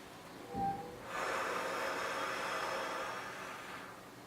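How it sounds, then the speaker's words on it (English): A person exhales during a pre-exercise fitness screening with blood pressure checks: a short snort-like breath, then a long, soft, airy exhalation lasting about three seconds before fading, close and quiet with no talk. "When you're ready, breathe out."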